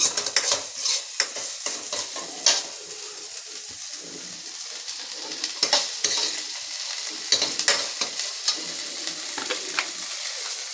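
Chilli and curry leaves fry in oil, a continuous hissing sizzle broken by repeated scrapes and taps of a spoon stirring in the pan, close and fairly loud.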